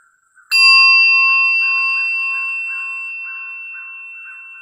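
A single meditation bell is struck once in near silence, ringing out with a bright, clear strike and a long, slowly fading shimmering tone.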